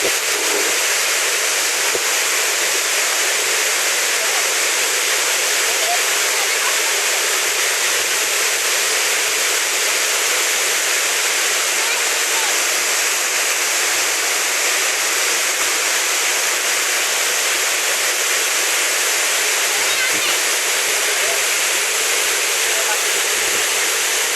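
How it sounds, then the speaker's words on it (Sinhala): A powerful, constant roar of falling water close by at Duli Ella waterfall in Neluwa, Sri Lanka, a dense hiss that never lets up. "මේක තමයි නෙළුවේ තියෙන දූවිලි ඇල්ල"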